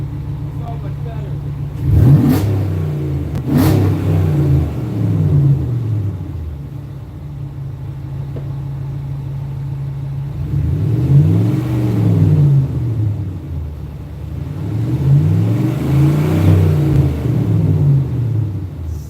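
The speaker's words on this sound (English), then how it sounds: "Still loud, still has a real nice burble to it, still a true dual exhaust" Car with a true dual exhaust revving, loud burbling swells that rise and fall in three separate bursts, with sharp onsets early on and a steady idle rumble between them.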